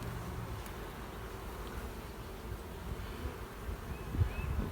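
Honey bees buzz over a brood frame where new bees are emerging, a dense, steady hum close by, with a few brief knocks near the end and no talk.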